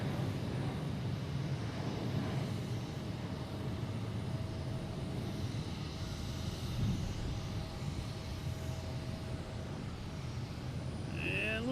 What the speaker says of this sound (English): Also have Southwest taking off here.